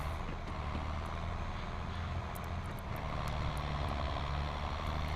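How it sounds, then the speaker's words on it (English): A tractor engine labors steadily as it pulls and runs a baler in the Farming Simulator 22 video game, a continuous low drone with a constant hum and no talking. "this tractor is doing well just to even run this baler"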